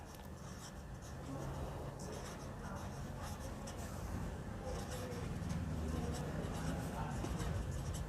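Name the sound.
writing a heading by hand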